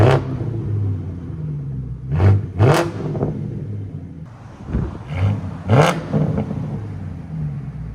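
A BMW V10 engine roars through sharp revs from a steady idle, with two quick blips followed by a longer climb and fall, loud and close.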